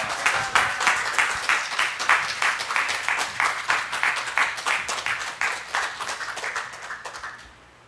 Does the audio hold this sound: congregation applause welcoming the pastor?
yes